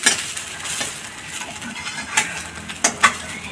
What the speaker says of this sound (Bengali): এইবার আমার লাউটা এরকম করে ভাজবেন।